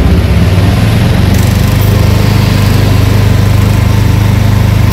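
A used 2018 motorcycle runs close up with its engine blipped lightly, a loud, steady, buzzing putter that pulses evenly with only slight rises in pitch, with no voices over it.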